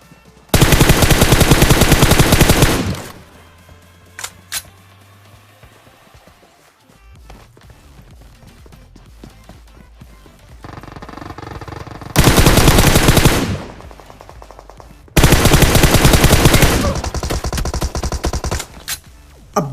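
Automatic gunfire sprayed in the mobile battle game PUBG Mobile, with three long, loud, dense bursts separated by quieter stretches of footsteps and game ambience.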